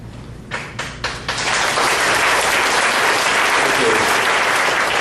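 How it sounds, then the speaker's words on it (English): Audience applause at a senior statesmen political forum in Virginia, beginning with a few scattered claps before swelling into sustained, loud, dense clapping from a full room. "We'll try to hold the applause"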